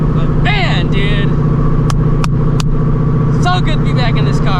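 A Shelby GT350 engine drones loud and steady from inside the car while driving, a constant low rumble under a speaking voice, with a few sharp clicks partway through.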